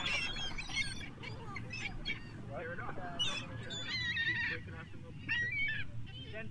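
Seagulls call repeatedly in outdoor footage, with several shrill, rising cries overlapping one another above a constant rumbling background noise.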